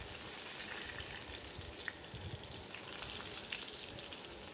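Stuffed brinjals fry in hot oil seasoned with cumin and mustard seeds, making a soft, steady crackling sizzle with scattered tiny pops, faint and close.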